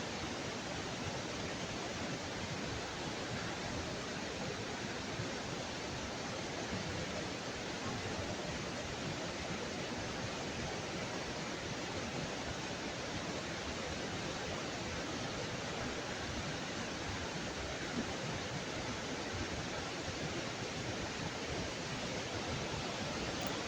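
Bomburu falls pours steadily after heavy rain, a constant broadband roar of rushing water with no break or change, close and enveloping, with no voices.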